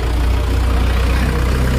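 A tractor engine idles nearby with a steady low diesel rumble and rhythmic throb, loud and unbroken, with no voices over it.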